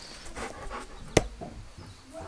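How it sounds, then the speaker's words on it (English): Farm dog panting in a muddy farmyard, quick soft breathy puffs close by, with one sharp brief knock partway through. "Good old Shep, our imperfect, perfect farm dog."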